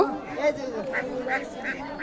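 Repeated native duck quacks, about four in a steady rhythm, over a busy traditional village market crowd in Manikganj, Bangladesh, with people chattering nearby.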